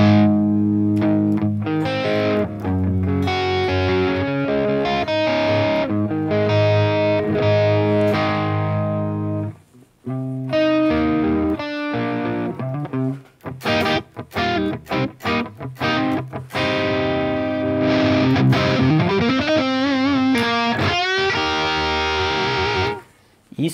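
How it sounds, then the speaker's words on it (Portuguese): Electric guitar with a vintage potentiometer, pickup volume rolled down for a clean tone, played as strummed chords and picked notes through an effects unit, loud and close with brief pauses. "Então você consegue um som clean só abaixando o volume do captador"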